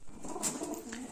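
Jorcha pigeons kept by a breeder give a short, soft coo, close by and clear over a faint background hum, with no one talking.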